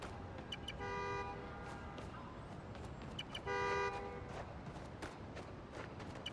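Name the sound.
car horn honking in a video game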